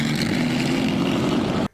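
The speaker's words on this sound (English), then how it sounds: "That is the sound of the inline straight 8s joined together to create a V16." A Bugatti V16 engine, built from two inline straight-eight engines joined together, revs with a steady, continuous, smooth drone that holds loud and even before cutting off abruptly at the end.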